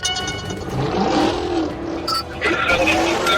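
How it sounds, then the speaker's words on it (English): A white 2018 Chrysler 300 Hellcat, fleeing police in a high-speed chase, roars hard with a loud rising engine rev that dips briefly and then surges again, and a voice can be heard talking over it. "the driver suddenly accelerated away, ignoring commands to stop and triggering a high-speed pursuit"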